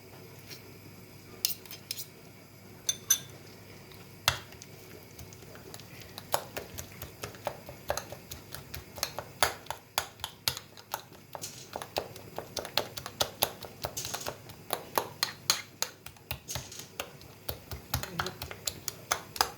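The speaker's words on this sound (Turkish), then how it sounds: "ben karıştırmaya devam ediyorum" A spoon stirs a honey face mask mixture in a bowl, with soft clicks at first that build into a steady run of quick, faint clinks and scrapes, close by.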